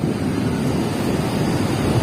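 Steady broadband rush of the Cimanuk River flowing beneath a bridge in West Java, continuous and fairly loud with heavy low-end wind buffeting and no voices.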